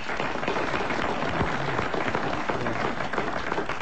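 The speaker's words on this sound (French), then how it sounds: "Applaudissements pour Madame Dagan" Studio audience applause on a French radio comedy quiz show, a dense, steady wash of many hands clapping at close range throughout, with no speech.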